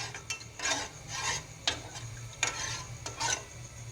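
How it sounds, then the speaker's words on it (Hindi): Jaggery tea boils in a pot on the stove, giving a soft bubbling hiss broken by several rhythmic scraping bursts, like stirring, at moderate closeness with no talking. "ये देखें, इसमें उबाल आ गया।"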